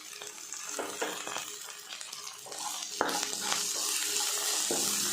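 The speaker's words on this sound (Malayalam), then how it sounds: "വേപ്പില ഇട്ട് കൊടുക്കുന്നുണ്ട്." Curry leaves hit hot oil in a pan for a Kerala tomato curry, giving a close, crackling sizzle with a louder burst partway through. A spoon scrapes and clinks against the pan as the mixture is stirred.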